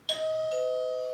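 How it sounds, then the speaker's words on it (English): An electronic doorbell chime sounds once, a bright sustained two-tone ding-dong that rings clearly and fades slowly, heard alone in a quiet room. "Is he gonna ring the doorbell?"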